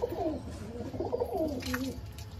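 Pigeons coo close by near a parrot, giving a few soft, low, rolling coos in a short sequence against quiet background noise.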